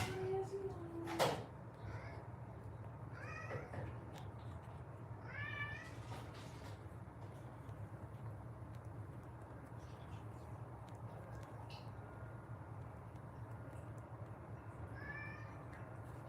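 A cat meows several times indoors, short rising calls spaced a few seconds apart over a low steady hum, with one sharp knock early on.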